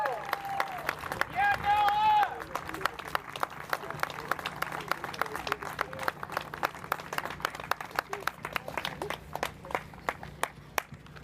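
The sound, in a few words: audience applause for the champion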